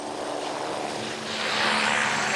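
A civil-security rescue helicopter at a sea evacuation gives off a continuous, fairly loud rotor and turbine roar that swells brighter toward the end, as if lifting or coming closer, with no voices.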